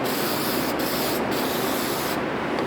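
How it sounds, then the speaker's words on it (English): Anti-corrosion spray hissing continuously onto the back of a 7-way trailer plug's wiring, a steady close broadband hiss lasting the whole moment with brief dips in the spray. "spray the back side of this so it's protected from corrosion"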